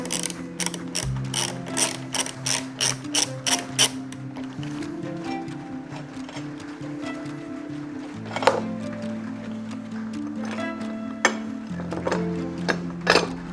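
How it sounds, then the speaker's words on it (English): A ratchet backs a bolt out of a Honda tractor mower deck, with bursts of fast close clicking, then slower pawl clicks and occasional metallic knocks, and no one talking. "When I take this bolt out, I'll be able to get the spring out easy enough."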